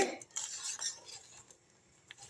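Metal utensil scraping and clinking against a pot while stirring boiling ginger tea, a few soft scrapes and taps, fairly close, no talking.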